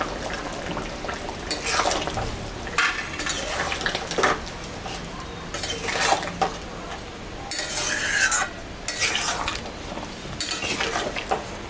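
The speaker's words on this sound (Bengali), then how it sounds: "ঝোলটা হয়ে গেছে, আমি এখন যে ভাজা মশলা বাটা দিয়ে দিলাম" A spoon stirs a bata fish and bottle gourd curry in a pan after fried spice paste is added, in repeated scraping bursts over a steady close sizzle, with no talking.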